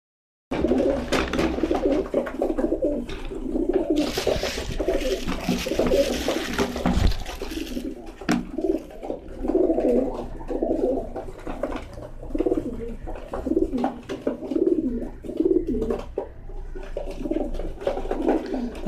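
Pigeons coo repeatedly in soft, low throaty calls close by during vaccination, with rustling and handling noises and a burst of hissing water partway through.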